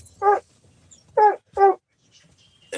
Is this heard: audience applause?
no